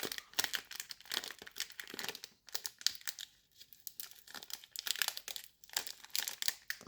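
Magic: The Gathering Final Fantasy booster packs are torn open, with close, crinkling foil wrappers and bursts of tearing in irregular bouts, separated by brief quiet gaps.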